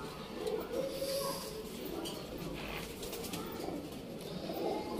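A female pigeon coos inside a loft, soft low repeated throaty calls close by over a quiet room, with a sharp bump at the very end.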